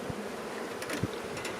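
Honeybees buzzing around an opened hive during an inspection, with frames being shaken and smoke applied; a close, continuous swarming drone with a few louder passes.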